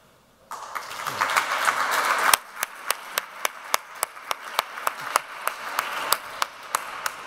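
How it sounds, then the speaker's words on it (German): Applause at an environmental construction award ceremony swells briefly from a crowd, then thins to a few steady, evenly spaced loud claps. "Starker Applaus für ja, lieber Herr Liebel,"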